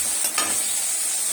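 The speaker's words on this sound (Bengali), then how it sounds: "এবার এই যে কারি পাতাটা দিয়ে দেবো। কারি পাতাটা আগে দিলে কি হয় না, খুব ছিটা আসে।" Curry leaves spitting and sizzling in hot oil in a pan after onions, a close, bright crackle that fills the short moment without pause.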